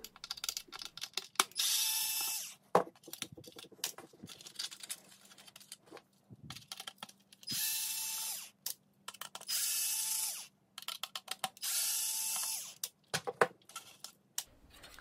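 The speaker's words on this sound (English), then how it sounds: "So we'll do a little high-speed screw removal here to get us to the next step." A power driver spins screws out of a vintage radio-controlled Star Wars Jawa Sandcrawler toy in several short whirring bursts separated by clicks and handling noise, close and fairly loud with no talking.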